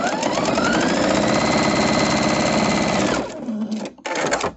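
Sewing machine stitching a star spangled quilt, a steady loud rapid whir of needle strokes running for about three seconds, then stopping, followed by brief softer clicks and a short burst of stitching.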